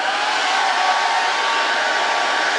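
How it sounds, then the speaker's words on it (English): A hair dryer set on low blows steadily over leather being antiqued, a constant airy whir heard close and alone for the whole stretch. "turn our hair dryer on. I'm going to put that on low."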